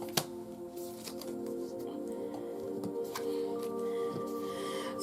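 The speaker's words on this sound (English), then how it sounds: "It's a few cards that come out here." Tarot cards being shuffled and drawn, giving a steady close run of papery riffles and soft slides with a few sharper flicks, over a faint constant background hum.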